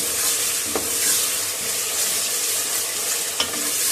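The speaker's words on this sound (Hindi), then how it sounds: "मसाला मैंने भून लिया, अब मैं टमाटर डालने लगी हूँ।" Chopped, peeled tomatoes stirred into frying masala for aloo gosht, a loud continuous sizzle broken by two sharp spoon scrapes on the pan, with no talking.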